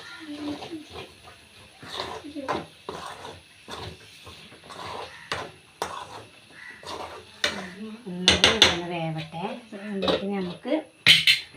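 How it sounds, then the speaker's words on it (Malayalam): A ladle clanks and scrapes against a pot while a curry of jackfruit seeds, mango and fish is stirred, giving several sharp metallic knocks between stretches of nearby talking. "നമ്മുടെ ചക്കക്കുരും മാങ്ങയും മീനും അപ്പോൾ ഒന്ന് ഇളക്കിയിട്ട് കൊടുക്കാം"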